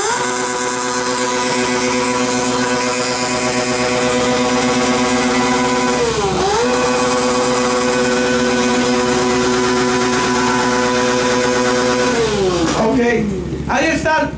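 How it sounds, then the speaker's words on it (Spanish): Motorcycle number four in a loud-bike sound contest revs hard. Its engine drones loud and close with a sustained roaring note that dips briefly twice and falls away at the end. "escuchamos cuatro motocicletas"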